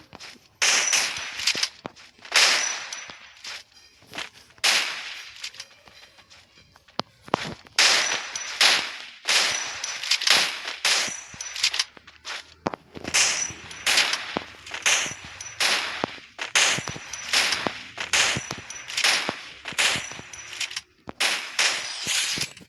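Gunfire from an M519 weapon in a mobile shooting video game, repeated sharp bursts of shots in fast rhythmic bursts with short gaps, loud and close.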